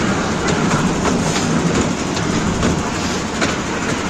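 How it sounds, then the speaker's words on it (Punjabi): A toy ride train carries children at the crowded Vaisakhi fair in Janori, Hoshiarpur district, Punjab, its steady rolling clatter continuing close and loud for the whole stretch against a dense fair din. "ਰੇਲ ਗੱਡੀ ਤੇ ਬਹਿ ਗਈ ਹੈ"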